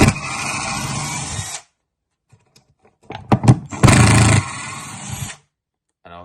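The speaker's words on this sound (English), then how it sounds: "let me take out these screws now." Power drill backing out Beaverscrews screws, a loud whirring burst at the start, then a pause with faint clicks, followed by a few sharp taps and a second strong whirring run that winds down.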